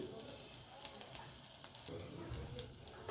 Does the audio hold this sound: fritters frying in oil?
yes